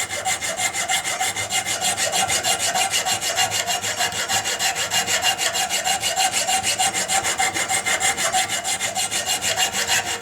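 Steel file rasping across the side flats of a ramrod thimble clamped in a vise, a fast steady rhythm of close, crisp back-and-forth strokes with no talk.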